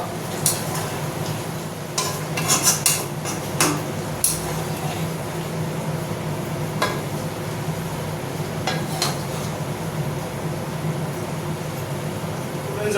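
A spoon stirs a meat curry in a pot after Kashmiri chili powder goes in, producing soft scraping and occasional metallic clinks over a low steady background hum, with a few sharper knocks early on.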